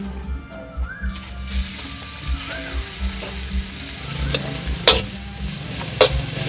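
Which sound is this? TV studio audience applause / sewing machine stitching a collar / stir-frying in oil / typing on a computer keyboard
stir-frying in oil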